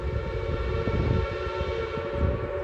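Coal train locomotive passing at a moderate distance, a steady rumble with a sustained horn-like tone running throughout, loud and continuous with no voices.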